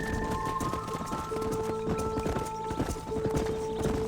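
Horse hooves clip-clop at a steady trot while riding in Red Dead Redemption, rhythmic close footfalls with brief tonal game music in the background.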